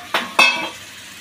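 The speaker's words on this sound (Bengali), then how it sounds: "আবার একটু নেড়ে নেব।" Pabda butter fish with turmeric, chili powder and salt being stirred in a frying pan: two quick scraping strokes of a utensil against the pan over a faint sizzle, then near quiet.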